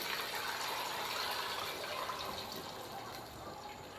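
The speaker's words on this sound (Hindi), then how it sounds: "4 गिलास मैंने पानी लिया है, ये मैं इसके अंदर शामिल करता हूँ।" Water pours steadily into a pot holding jaggery and rice, making a continuous close splashing rush that eases slightly toward the end. No one speaks.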